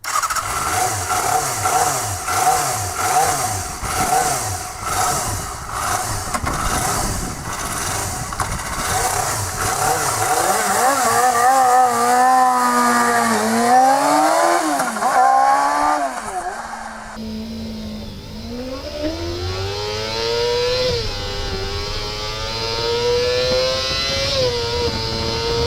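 A Yamaha FZR four-cylinder motorcycle engine with a quartet of Mikuni carburetors revs hard toward an 18,500 rpm redline, loud and close, its pitch climbing and falling through repeated high-rev sweeps.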